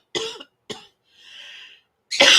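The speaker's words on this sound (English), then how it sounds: "I got to cough really quick." Two sharp coughs close to the mic, followed by a soft breathy throat sound and then a louder, harsher cough burst.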